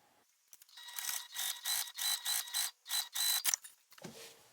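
Sewing machine stitching fabric pieces together for a book sleeve, running in several short whirring bursts with brief pauses between, close and moderately loud, with a mechanical whine and clicks, no talking.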